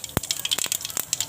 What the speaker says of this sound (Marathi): तेल गरम झालंय। मोहरी टाकली,